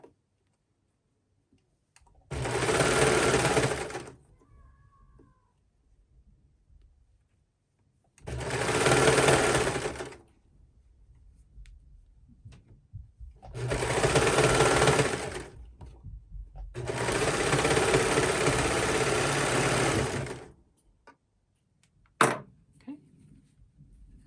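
Serger stitching a wrist cuff onto a garment sleeve, running in four loud, steady bursts of about one to five seconds each, separated by quiet pauses, with a sharp click near the end.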